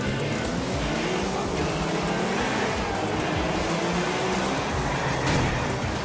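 A car engine roars continuously during a street race in Grand Theft Auto IV, a steady loud drone with shifting pitch and road noise, no voices.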